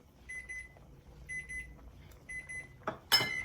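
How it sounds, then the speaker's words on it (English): A kitchen timer set for cooking pasta goes off with three evenly spaced bursts of beeping, followed by a brief clatter nearby. "Our timer is for our pasta."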